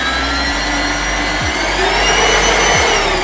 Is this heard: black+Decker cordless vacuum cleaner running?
yes